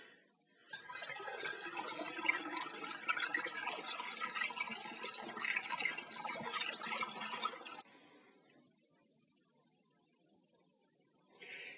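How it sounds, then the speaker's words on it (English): Water pours steadily into a glass demijohn of homemade strawberry wine, a soft continuous splashing and gurgling that lasts several seconds, then stops. The sound is quiet and close, with no talking. "I'll just add some more water"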